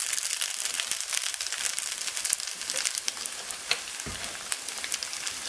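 Steady, busy sizzling of meat pie filling frying in oil, with crackles and little pops throughout, close and fairly loud.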